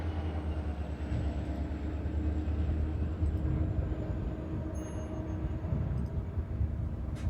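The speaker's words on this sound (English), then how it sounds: "a UP coal train heads south" A Union Pacific coal train rumbles steadily with its DPU helper locomotives, a continuous low heavy roar of engines and rolling wagons that stays loud and close throughout, with no talk.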